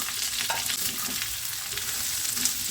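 Spinach sizzles steadily in a hot pan on high flame, a dense continuous frying hiss with soft scraping strokes of stirring throughout, no voices.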